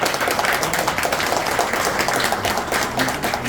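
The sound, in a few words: audience applause welcoming a candidate onto the stage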